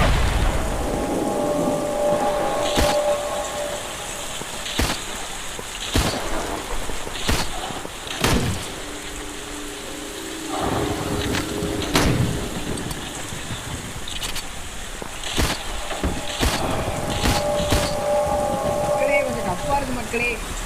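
Rain and rolling thunder in the zombie game Into the Dead 2: steady heavy rainfall with repeated loud thunder cracks, and someone talks over parts of the storm.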